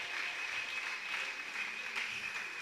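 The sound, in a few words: audience applause and cheering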